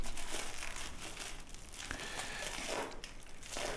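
Bubble wrap crinkles steadily up close as a parcel is unpacked, a dense continuous crackling with scattered sharper pops and no talking.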